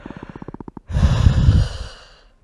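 A person takes a deep breath: a rapid series of short, stuttering inhalation pulses, then a long, loud, airy exhale that slowly fades, close to the microphone.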